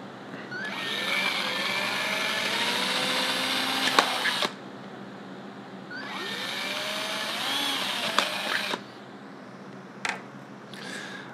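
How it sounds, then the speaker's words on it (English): A small power drill whirs through plastic face shells while boring ventilation holes. There are two long, steady runs of several seconds each, with faint pitch shifts as the bit cuts, then a few brief clicks and short bursts near the end. "I'm drilling ventilation holes"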